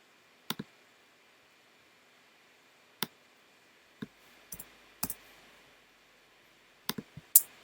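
Sharp computer mouse clicks, single and in quick pairs, spaced a second or two apart over a quiet room hum, close and crisp with no voice.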